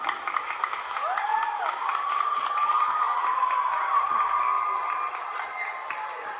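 A studio audience applauds during an interview, giving a moderate, continuous patter of clapping with a faint cheer or whistle rising over it midway, then easing off slightly.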